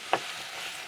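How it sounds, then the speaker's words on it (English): Vegetables fry in a pan for a beef goulash, a soft steady sizzle with one quick scrape of stirring near the start, quiet and close. "Let it fry down."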